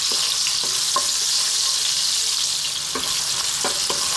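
Ginger sizzling steadily in hot oil in a pan while being stirred, a loud continuous fry with a few soft clinks of the utensil, no talking.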